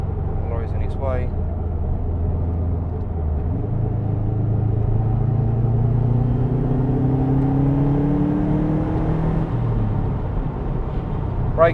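A Subaru Impreza WRX STI Type-RA Spec-C with 17K miles cruises on a road at about 50 to 60 mph, its engine a steady droning rumble as revs rise and shift, with light passing traffic around.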